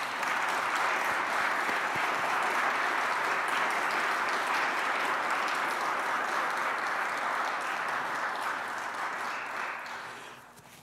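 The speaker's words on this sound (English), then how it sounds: "join me once again in giving Mr. Wise yet another round of applause" Audience at a Martin Luther King Jr. remembrance ceremony gives a sustained round of applause, dense steady clapping filling the room for about ten seconds before tapering off at the end.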